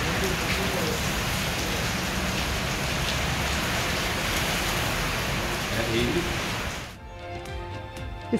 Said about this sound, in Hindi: इस्लामाबाद में वक्फे वक्फे से बारिश का सिलसिला जारी।